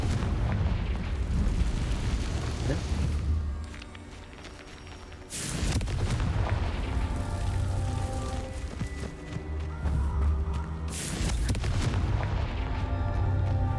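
Confringo fire-spell blasts in the Hogwarts Legacy video game, heavy booming explosions with long rumbling tails, two big bursts standing out among continuous loud crackling and rumbling action.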